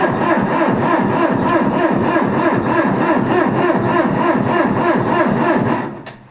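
A 2140 tractor engine turns over on its starter with lots of throttle, a steady rhythmic churning that runs for about six seconds without catching, then cuts off.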